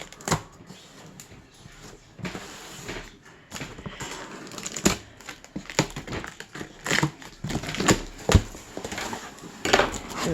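A brand-new tarot card deck being unboxed, its packaging handled up close: irregular crinkling, rustling and sharp crackles with scattered taps and scrapes, growing busier toward the end.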